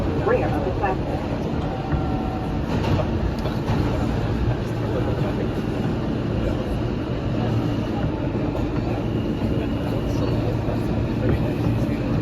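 A Queens-bound R160 E train on the New York City subway runs with a steady, loud rumble and rattle of wheels throughout, a continuous dense roar with faint clatter and a voice briefly audible beneath.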